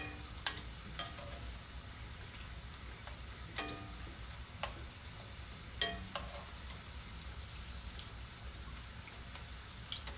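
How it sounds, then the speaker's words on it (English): Steady crackling sizzle of potatoes frying in hot oil, with occasional louder pops over the constant hiss. "All right, let them keep frying."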